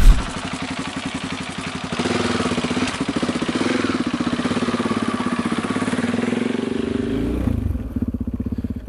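An adventure motorcycle rides a mountain road, its engine droning steadily with a throbbing rhythm, briefly easing off and revving again near the end, loud and close throughout with no talk.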